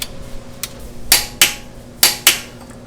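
A click-type torque wrench set to 96 foot-pounds tightens a bolt while installing lightweight pulleys on a car, giving a few sharp metallic clicks in two close pairs, crisp and near.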